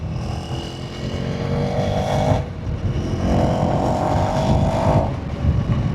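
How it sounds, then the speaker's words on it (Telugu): A KTM Duke 390 naked street bike accelerates hard in two rising pulls while its quick shifter is tested. A loud engine note climbs to a brief break at the upshift and then pulls again, heard close with strong wind rush. "ఒకసారి క్విక్ షిఫ్టర్ అనేది టెస్ట్ చేద్దాం."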